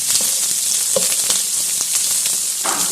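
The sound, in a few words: onions sautéing in a pan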